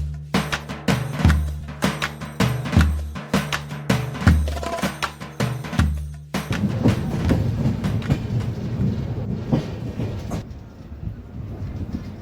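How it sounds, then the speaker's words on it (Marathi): Shri Ganganagar Superfast Express rolling on rails near Basmat station, with loud rhythmic clickety-clack of wheels over rail joints in repeated bursts, then a steadier rumbling roar as the train keeps moving. "नांदेडपासून 52 किलोमीटरचा प्रवास पूर्ण करत आपली श्री गंगानगर सुपरफास्ट एक्सप्रेस पोहोचलेली आहे बसमत"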